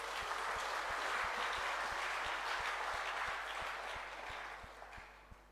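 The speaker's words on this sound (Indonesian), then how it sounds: "Tepuk tangan." Audience applause at an International Day of Persons with Disabilities event, a dense steady clapping that holds loud for several seconds and then gradually thins and fades.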